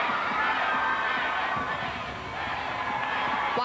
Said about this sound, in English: You heard the crowd chanting 10, 10, 10, and the judges agree.